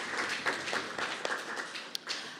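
Audience applause at a debating competition, a dense wash of many hands clapping at steady moderate loudness, slightly distant, with a few sharper individual claps standing out.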